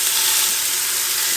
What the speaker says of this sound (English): The meat has seared